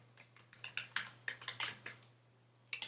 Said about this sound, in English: I can type it in here, but I don't know if you're seeing my typing as well